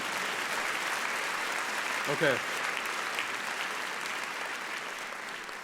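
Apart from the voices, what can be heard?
graduation audience applause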